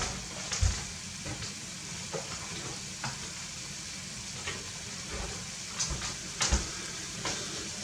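Canned beans seasoned with cumin, white pepper and salt fry in a pan with a steady close sizzle, broken by occasional soft stirring scrapes and taps, no talking.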